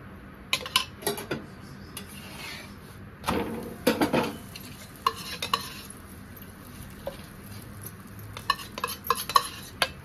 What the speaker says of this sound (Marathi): तर पोळी मी पलटी करून घेतलेली आहे। ह्याला तूप लावून घेणार आहे।